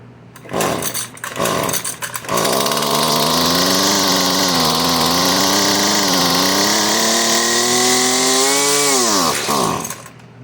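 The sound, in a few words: Husqvarna 128LD string trimmer engine starting and running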